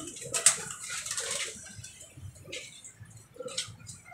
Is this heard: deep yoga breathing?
no